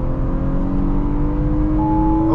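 2021 Audi A5 2.0T Sportback accelerating hard, heard from inside the car: a loud, sustained engine drone whose pitch climbs steadily as the revs build, with no talking.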